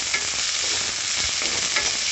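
Coriander leaves sizzling in hot oil as they are stirred, a dense, close hiss with soft scraping bursts from the stirring and no talk over it.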